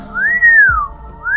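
A long, wavering whistle rises and slowly falls, drawn out and eerie, followed by the start of another rising whistle over a low rumble.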